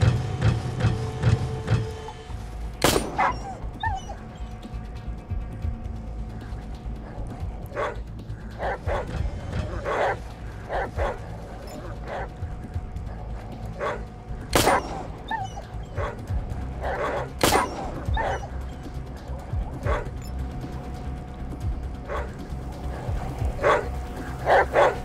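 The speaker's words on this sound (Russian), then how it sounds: "Собакинов бродит, я смотрю." Dogs in the video game Atom RPG: Trudograd, barking, yipping and whimpering in repeated bursts against a constant mechanical game hum, with sharp clicks and impacts scattered through.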